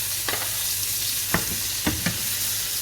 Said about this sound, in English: I'm going to give it another turn, and I'm quite happy for my steak to be done now.